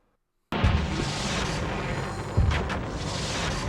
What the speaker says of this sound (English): we're just gonna bomb this whole area. It'll hit them eventually.